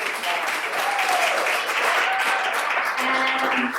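Applause for the program chairs at an evening AR/VR panel event, a continuous dense wash of clapping that holds steady throughout, with faint voices underneath.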